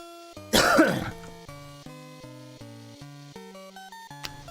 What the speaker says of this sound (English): every time I clear my throat and just end up filling my mouth with mucus